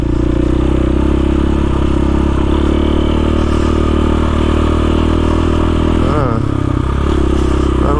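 KTM motorcycle riding over snow and ice, its engine droning loud and steady up close, with clattering and scraping, a brief dip in revs near the end.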